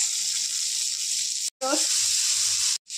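Bay leaf, cardamom, cinnamon, peas and beans sizzle in butter in a pan, a steady hiss throughout, briefly cut off twice, with a short clink of stirring midway.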